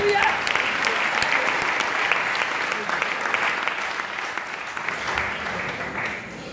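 A church congregation applauding steadily and loudly for the full length, a dense, even wash of clapping that fades slightly toward the end.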